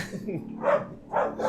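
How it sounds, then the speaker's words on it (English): A dog barking outside at a passing vehicle, two or three short muffled barks at a distance, heard under a voice talking throughout. "the dog outside is barking at some passing vehicle"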